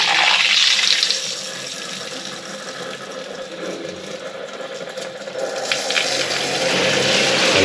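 Water gushes loudly and steadily through household pipes after a valve is turned on with the power off, a continuous broadband rush that swells at the start, dips slightly, then builds again.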